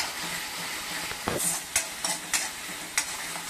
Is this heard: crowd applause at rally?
no